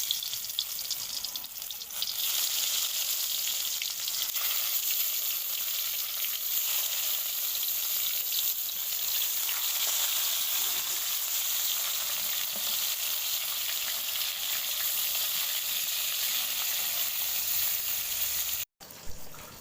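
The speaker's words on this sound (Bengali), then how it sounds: "এবার আমি এই পুলিগুলো ভেজে নেব।" Stuffed ash gourd leaf fritters fry in hot oil in a wok, giving a loud, steady, close sizzle that lasts almost the whole time and stops abruptly near the end, with no voices.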